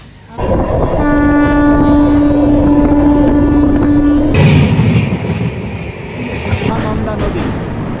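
The Sealdah–Jalpaiguri Humsafar Express crosses the Nasipur railway bridge with a long, loud horn blast, followed by the heavy rumble and clatter of passing coaches close by.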